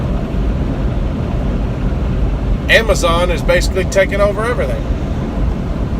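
Steady low road rumble from a moving car runs throughout, with someone talking over it partway through.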